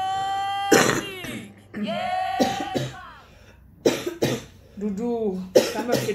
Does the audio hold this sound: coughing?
yes